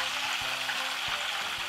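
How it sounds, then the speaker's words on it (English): Roasting duck sizzles in about a quarter inch of hot fat drippings in a pan, a steady bright hiss with faint low pops, heard up close and alone. "I don't know if you can hear all that sizzling."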